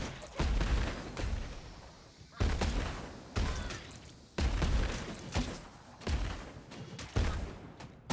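Turrets and a mortar fire in the video game Dwerve, producing repeated booming blasts and rattling gunfire bursts that start abruptly every second or so, loud and close, with overlapping explosive thuds.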